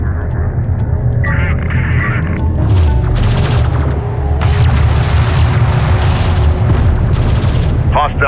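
Explosions and gunfire from Homeworld: Deserts of Kharak sci-fi desert battle, loud continuous rumbling booms with repeated bursts of crackling fire over a steady low hum, sustained throughout.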